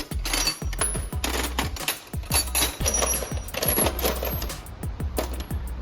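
Hands rummaging through a metal biscuit tin full of bolts and loose hardware, producing a busy run of bright metallic clinks and rattles, close and continuous, with no talking.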